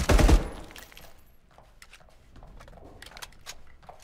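Gunfire in The Day Before video game: a loud, sharp burst of shots right at the start, followed by fainter scattered cracks and clicks over quiet in-game ambience.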